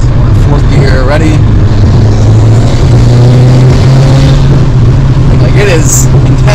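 A car engine fitted with a 6-inch velocity stack intake and upgraded exhaust revs loudly at around half throttle, its droning tone rising and falling in pitch under intense, close intake roar.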